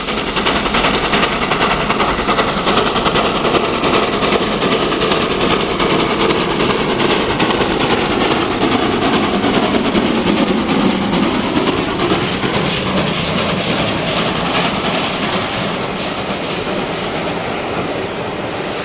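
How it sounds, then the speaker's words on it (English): Great Western Castle steam locomotives 5029 and 5051 haul the Cornubian 2 charter past Coombe Fishacre, a loud continuous roar of exhaust and rolling stock with rhythmic rail clatter sweeping by up close. "Another Great Western duo, this time Castles 5029 and 5051 with the Cornubian 2 charter of May 2004."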